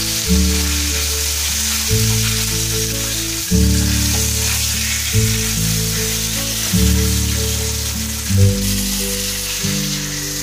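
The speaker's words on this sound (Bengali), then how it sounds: "তেলটা গরম হয়ে গেছে, মাছটা দিচ্ছি, মাছটাকে হালকা ফ্রাই করে নিই।" Tilapia fish fries in hot oil, giving a bright, steady sizzle and crackle with background music playing underneath and no voices.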